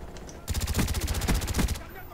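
A rapid burst of AUG rifle fire in the video game Black Ops 1, a tight string of close, loud automatic shots lasting just over a second.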